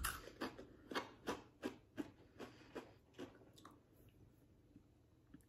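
Crunchy garlic chips are bitten and chewed close up, a regular series of sharp crunches that slow and soften toward the end.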